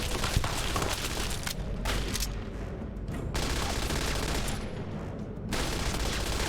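Automated turret in Fallout: TTW firing a sustained volley of rapid gunshots, dense and loud throughout with brief dips, no voices.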